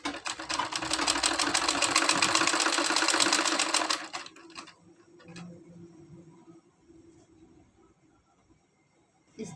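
A sewing machine runs fast and steady stitching bra fabric for about four seconds, then stops, leaving quiet handling noises and a faint tap.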